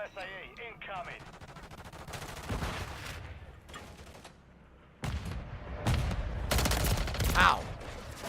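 Gunfire in a first-person video game shooter, several loud bursts of shots in quick succession, with broadband blasts clustered at the start and again in the second half, mixed with game effects and some talk.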